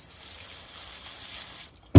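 A steady, close hiss of contact cleaner aerosol spray lasting almost two seconds, then a brief stop and a sharp burst at the end.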